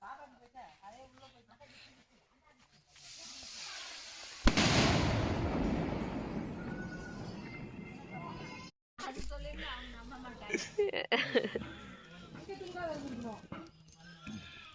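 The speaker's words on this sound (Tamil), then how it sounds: "வெடி வெடிக்க போகிறாங்க பாரு" A firecracker bursts loudly at close range, followed by several seconds of crackling and fizzing, with people talking before and after, at a hillside village feast with sheep nearby.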